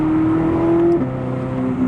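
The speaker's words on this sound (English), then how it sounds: "As soon as I press it, it changes gears." Corvette C8 Z06 dual-clutch gearbox snapping through a manual-mode upshift, a loud steady engine drone that drops in pitch abruptly at the shift and then carries on, close and alone.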